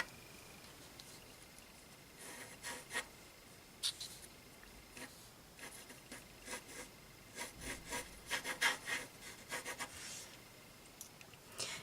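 An eraser rubbing out pencil marks on paper, short scrubbing bursts repeated at close range, growing busier toward the end, with no voices.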